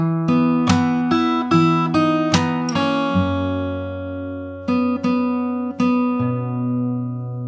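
Fingerstyle acoustic guitar playing the ending chorus of a song, with plucked chords over ringing bass notes, loud and close with no voice.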